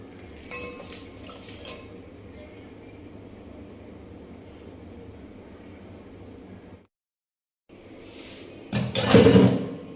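Metal utensils scrape and clink against a pot of tamarind chutney in uneven bursts, with a brief silence before a louder clattering flurry near the end.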